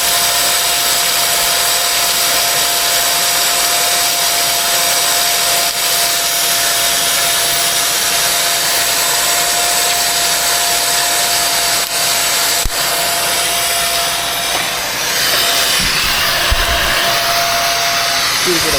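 Vacuum cleaner running during a repair, a loud continuous high whine and airflow roar held steadily throughout, with a brief change in tone near the end as it sucks at a clog.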